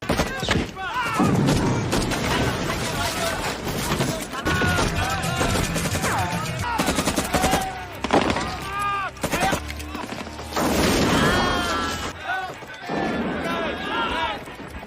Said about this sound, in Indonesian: seketika baku tembak pun terjadi, namun meski Cooper dan pasukannya kalah jum